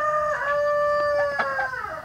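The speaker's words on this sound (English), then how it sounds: "Those are my ducks. They make noise a lot." Pet ducks call out loudly nearby in one long, nasal, strongly tonal cry that dips and bends in pitch, with faint background noise underneath.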